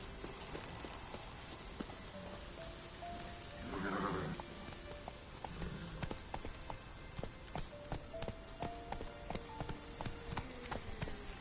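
Roach, a horse in The Witcher 3, galloping with a steady, rapid clip-clop of hooves, fairly faint, with a brief neigh-like burst early on and background game sounds.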